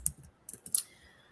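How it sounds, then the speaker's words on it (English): Someone types on a computer keyboard, a short burst of a few quick, sharp key clicks, then a pause and another cluster of taps, close and alone with no talking. "I'm typing it in"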